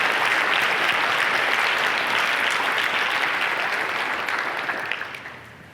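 An audience at a college service-corps event bursts into loud, sustained clapping that fills the room, then thins out and fades over the final second or so.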